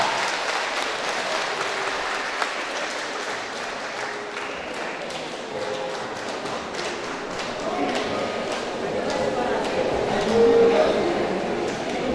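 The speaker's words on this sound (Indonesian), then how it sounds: "Kita berikan tepuk tangan yang paling meriah" An audience claps continuously throughout at an opening worship service of a choir festival, with steady applause that swells slightly near the end.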